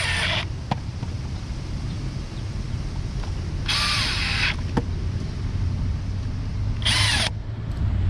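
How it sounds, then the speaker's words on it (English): A cordless power drill drives screws into a sprinkler valve, with three short high whirring bursts separated by pauses, plus a couple of small clicks over low outdoor background noise. "A lot of these drills will have a torque setting. I suggest not putting this on really tight."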